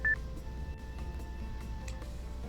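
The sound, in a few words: telephone dialing a call in the Nekopara video game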